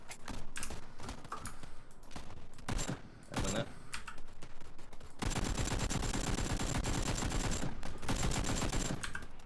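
Rapid gunfire in the PUBG battle royale video game, sharp bursts at first, then a sustained stretch of steady automatic shooting, moderately loud with no voices over it.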